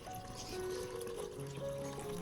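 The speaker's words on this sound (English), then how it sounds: "I will add exactly 500 milliliters of clean filtered water to the solution to dilute it" Clean filtered water pours into a cinnamon solution, a soft, steady trickle with rising pitch as the container fills, faint and close with no talking.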